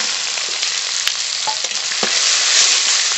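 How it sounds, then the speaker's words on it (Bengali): Chopped onions frying in mustard oil with whole cumin, dried chilli and bay leaf, a dense, steady close-up sizzle with occasional stirring scrapes and no talking. "পেঁয়াজ ভাজা হতে থাকুক"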